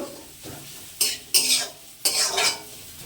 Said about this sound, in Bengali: লবণটা দিয়ে আমি খুবই সামান্য ভেজে নেব